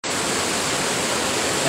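The floodwater of the Cigar River rushes after heavy rains in Surigao del Norte, making a loud, steady broadband roar that starts abruptly and continues without a break, with no voices.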